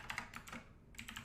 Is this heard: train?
no